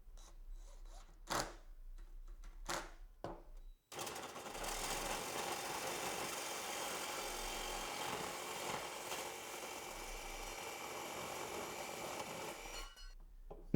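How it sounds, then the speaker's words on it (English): Power screwdriver driving screws into a PVC pipe frame for a homemade percussion instrument, a steady whirring run of about nine seconds after a few short knocks, close and alone. "now let's go ahead and get this one screwed together"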